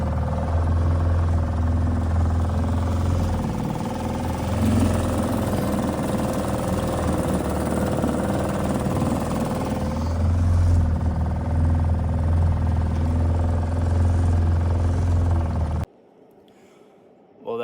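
An outboard motor pushes a boat along the Kopka River in a steady, loud drone for about sixteen seconds, then cuts out abruptly into near quiet.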